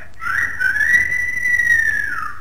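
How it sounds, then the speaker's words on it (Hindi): A man whistles a single long sustained note that bends up and then gently falls, clear and fairly loud against a quiet background, from a Hindi film scene. "गाने सीटी बजाने वाला"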